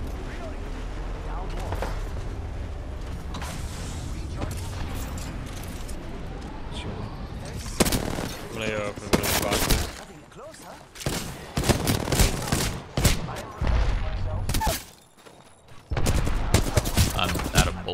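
R99 submachine gun fire in Apex Legends, loud rapid bursts broken by short pauses amid explosive game action, with players talking over the shooting.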